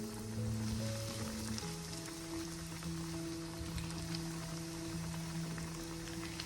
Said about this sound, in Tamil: இப்போ நான் எண்ணெய் கொதித்ததும் கொஞ்சம் கொஞ்சமாக போட்டு அது பொரிப்பட்டதும் இறக்கி எடுக்கிறேன்.